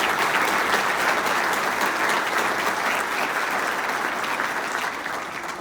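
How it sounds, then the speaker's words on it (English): Sustained audience applause at a State of the City civic breakfast event, a dense, steady wash of clapping from a large crowd that holds for several seconds and tapers slightly at the end. "Let's give her and the whole team, the board, a big round of applause"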